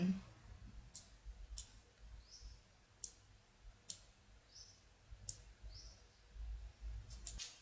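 Computer mouse clicks sound sharp and close in a quiet room, coming singly and in quick pairs at irregular intervals while a Flash CS6 drawing tool is used.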